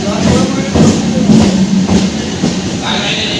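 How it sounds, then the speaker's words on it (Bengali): A local train pulls into a station on the Kolkata to Digha line, its wagons rumbling with a steady low drone and rhythmic clacks as it comes in close and loud, with voices talking underneath. "4:55 ট্রেন আসলো"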